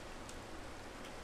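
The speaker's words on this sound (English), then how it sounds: "I'm tripping out from this rain." Rain in the video game Minecraft, a steady broadband hiss of falling drops that fills the short stretch evenly and holds at a constant level with no voices.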